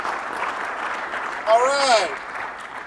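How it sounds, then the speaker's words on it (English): An audience at a connected-car technology presentation applauds in a steady, even wash of clapping, with a brief spoken remark over it. "Thank you for that applause."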